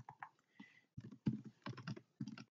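Computer keyboard keys tapped while typing code, in short irregular bursts of soft clicks with brief pauses between, close and quiet.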